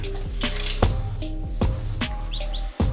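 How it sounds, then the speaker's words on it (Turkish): High, thin chirps from several newly hatched chicks in a brooder cage come in short bursts over a steady low hum, fairly close, with a few louder clicks and bumps mixed in. "Bakın sesleri duyuyorsunuzdur. Cik cik cik geliyor."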